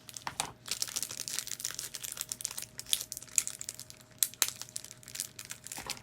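Packaging being cut open by hand, with close crinkling, crumpling and tearing of wrapper material in irregular bursts across the clip, no talk.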